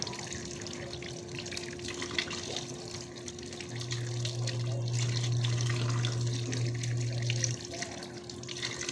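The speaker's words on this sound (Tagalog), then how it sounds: "habang naglalaba, nagpapaagas ng tubig, nagluluto" Tap water running steadily into a sink in a home kitchen during cooking and laundry, a continuous close splashing flow with faint drips and no voices.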